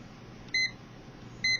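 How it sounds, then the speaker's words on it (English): Two short, loud electronic beeps from pressing buttons on an Eton 550 portable radio, spaced about a second apart over a quiet background hiss. "beep when you hit some of these buttons"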